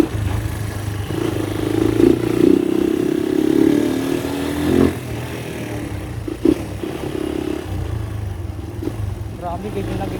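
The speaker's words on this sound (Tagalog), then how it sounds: "Grabe, gigil na gigil yung makina." A Honda XL 200 motorcycle engine running and being revved, rising to a strong throbbing pull, then dropping back to a rough idle with clattery bursts and blips, with people talking nearby.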